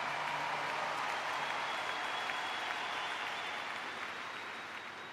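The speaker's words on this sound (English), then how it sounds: "This is a big crowd." Steady, sustained applause from a large crowd at a memorial gathering, heard alone and slightly distant, a continuous wash of clapping that fades a little toward the end.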